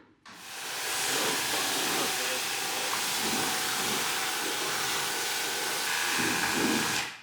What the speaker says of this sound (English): I like the pressure washer.